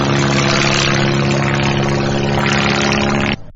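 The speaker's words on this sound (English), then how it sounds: "I can see a plane heading this direction." A military plane flies low overhead, a loud, steady propeller-engine drone with a strong humming tone that holds at full strength, then cuts off abruptly near the end.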